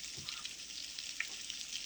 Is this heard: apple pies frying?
yes